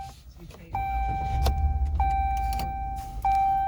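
A 2015 Dodge Ram 1500 pickup's engine starts after a few dashboard chimes, then settles into a steady low idle rumble close by, with brief key and cabin sounds.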